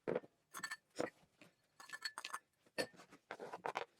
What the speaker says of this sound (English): We're going to add everything to the bowl here.